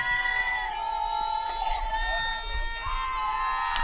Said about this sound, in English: Good crowd on hand here at Mazama today.